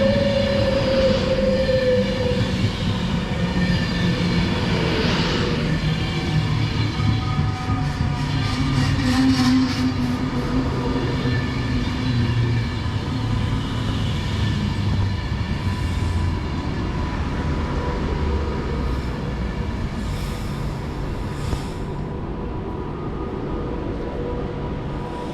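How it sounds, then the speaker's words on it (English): An Avanti West Coast Class 390 Pendolino on a London Euston to Liverpool Lime Street service pulls into a station, a loud, close rumble with squealing wheels and rising and falling tones, then settling as it slows. "1747 Avanti West Coast service, which is actually going to stop here, London Euston to Liverpool Lime Street"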